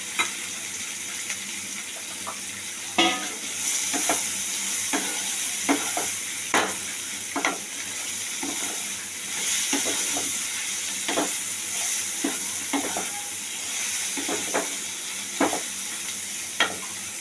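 Potatoes and eggplant seasoned with salt and turmeric frying in a pan, a steady close sizzle with a hissing wash and scattered sharp scrapes and clinks of stirring throughout, no voices.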